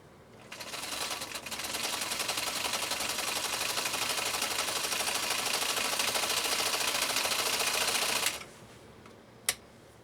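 Husqvarna Viking Type 51E sewing machine running stitch number 4 with cam C, a fast, even mechanical whir close up that starts, runs steadily for several seconds and stops, followed by a single sharp click.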